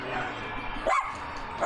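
A dog gives two short, sharp barks close by, the second following quickly after the first over a low background hum.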